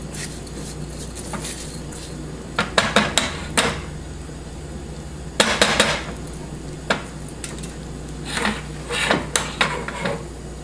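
Stirring rice in a pot to toast it for pilaf: intermittent scraping and clacking of a utensil against the pot in short clustered bursts over a steady low background hum.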